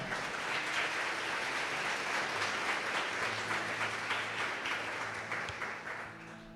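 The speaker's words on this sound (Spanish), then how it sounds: "Denle un aplauso al Señor por eso" A church congregation applauds together in sustained, dense clapping that stays loud and steady throughout before easing slightly at the end, with no voices heard over it.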